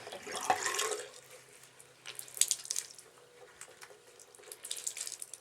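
Water drains and splashes from a basin after a knitted piece is wet blocked, with a gurgling wash early on, then quieter trickles, drips and handling sounds close by.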